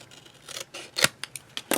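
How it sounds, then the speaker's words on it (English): Scissors cut across the folded corners of paper for a small flip book album, giving a few quick, crisp snips and rustles close by, with no talking. "And then I'm going to take my scissors and cut right across."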